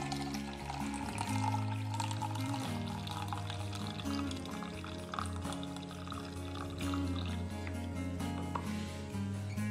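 Brewed masala chai tea poured steadily from a pan into a cup, a continuous close liquid stream lasting several seconds with no talking.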